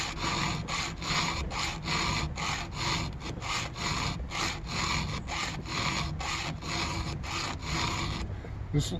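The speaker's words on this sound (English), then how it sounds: "This looks like a lot of filing" Hand-filing chainsaw cutter teeth to reprofile them for more aggressive ripping cuts, a steady run of close, gritty rasping strokes in an even rhythm, about two per second, with no voices.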